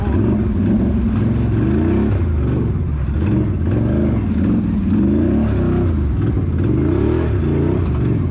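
A Can-Am Renegade 1000 ATV in low four-wheel drive roars and revs hard while climbing a steep mud hole, its loud engine note rising and falling in repeated surges with no pause.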